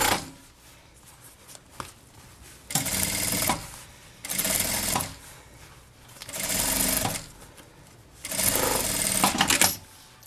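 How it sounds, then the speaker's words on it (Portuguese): A sewing machine stitches a safety seam on a fabric bag in four loud bursts of rapid whirring, separated by quiet pauses, with no one talking. "vamos passar uma costura de segurança"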